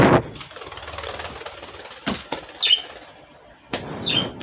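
A pet bird's wings flap in brief bursts close by, with a sharp thump as it hits a wall and a couple of short bird chirps in between.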